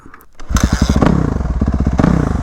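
A 450cc dirt bike engine ridden along urban trails, close and loud, with a rapid throbbing exhaust pulse that rises and holds steady, plus some rattling clatter.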